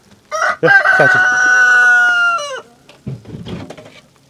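Farm chickens kept with ducks and geese in winter; one bird nearby lets out a loud, drawn-out crowing call, followed by a brief spoken phrase and faint rustling.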